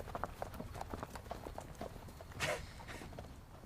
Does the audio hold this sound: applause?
no